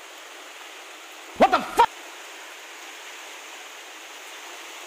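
Heavy rain pours down on a small tent shelter, a steady, even hiss filling the whole stretch, broken briefly near the start by a short spoken exclamation.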